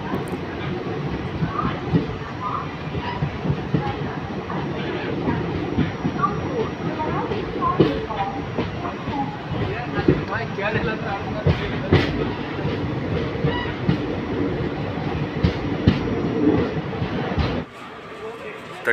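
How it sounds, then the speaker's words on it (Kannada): The weekly Yeshwanthpur–Pandharpur train runs after leaving Haveri, heard from inside as a continuous rumble with rhythmic wheel clatter and occasional sharp knocks, ending abruptly near the close. "12:04ಕ್ಕೆ ಹಾವೇರಿಯಿಂದ ಹೊರಟಿದ್ದೀವಿ ನಮ್ಮ ಟ್ರೈನು"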